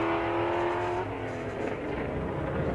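A drag race car with a very loud exhaust launches at Greer Dragway. A harsh, steady engine drone gives way to a thunderous, rough roar as it accelerates.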